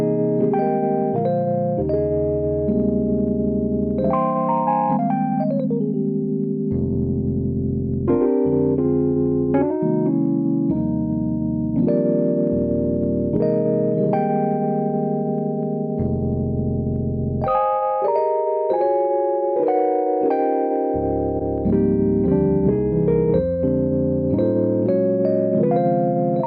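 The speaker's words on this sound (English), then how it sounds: "So that sound is called Herbie's Butterfly EP. It's a Rhodes sound." A Rhodes electric piano patch called Herbie's Butterfly EP on a Korg Kronos plays warm chords and melodic runs with a bell-like tone, steady and close, with deep bass notes beneath.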